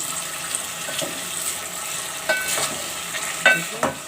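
Potatoes stir-fried with spices in a pan for aloo sabzi, a soft low sizzle broken by several sharp scraping and clinking strokes of a spoon stirring, close and fairly quiet.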